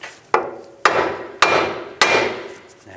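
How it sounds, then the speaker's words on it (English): Four sharp metallic hammer strikes on a 2005-15 Nissan Xterra lower ball joint, evenly spaced about half a second apart, each ringing briefly before the next blow. "I'm just going to give it a tap with a hammer"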